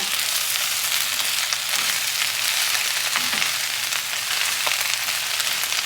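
Spinach stirred and wilting in a frying pan, with a steady close sizzle and occasional soft scraping and stirring sounds, no talking.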